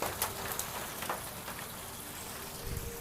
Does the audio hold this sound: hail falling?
yes